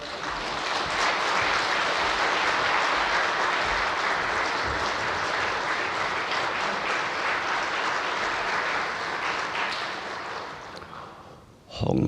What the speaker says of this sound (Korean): 우리 같이 목사님 나오실 때 박수로 환영해 주시면 감사하겠습니다.